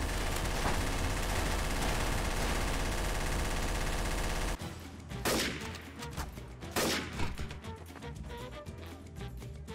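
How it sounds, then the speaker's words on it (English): An artillery strike in the video game Trouble in Terrorist Town starts as a dense, loud roar of rapid gunfire for several seconds, then breaks into separate heavy blasts and bursts. "Calling an artillery strike."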